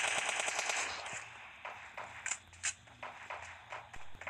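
Automatic rifle fire from an M416 in PUBG Mobile Lite: a rapid burst of loud shots in the first second, followed by scattered single shots and game sounds, with no talking.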